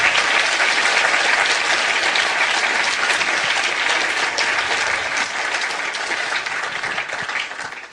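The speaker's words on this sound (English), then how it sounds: "please give them a round of applause" Audience applause at the close of a debate on God, loud sustained clapping from a full crowd that holds steady for the whole stretch and only slightly thins toward the end.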